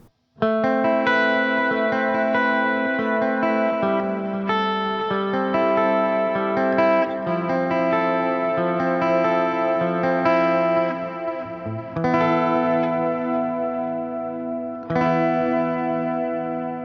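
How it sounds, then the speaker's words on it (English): Sustained electric guitar chords ring out with rich harmonics and light shimmer, loud and continuous, with a couple of fresh strums near the end. "This clean amplifier sounds amazing."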